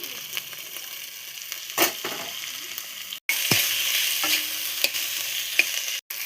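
Potato, cabbage and cauliflower stir-fried for samosa filling in a pan, with a steady sizzle, a spatula scraping and stirring, and a few louder clanks.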